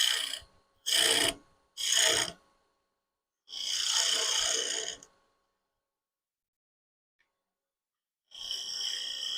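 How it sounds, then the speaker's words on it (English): A drill bores into a wooden finial held on a lathe, giving three short rasping bursts, then a longer grinding pass, a pause of near silence and a final burst starting, all close and loud. "Now we'll just drill it."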